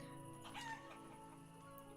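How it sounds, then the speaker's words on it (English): Chickens in the medieval survival game Life Is Feudal give soft, faint clucks and a short crow-like call over a quiet farmyard ambience, with no talking. "Chicken's still doing good? 2 chickens!"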